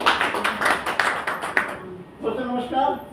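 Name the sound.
audience clapping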